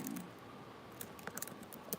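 Soft, irregular keyboard clicks in a quiet room, a few keys tapped in scattered bursts rather than a steady rhythm.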